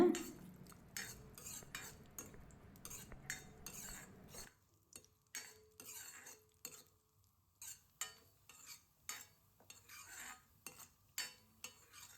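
Broken cashews roasting in a pan on medium heat, stirred with a spoon in a steady run of close, light metallic scrapes and clinks over a soft sizzle, with no talking.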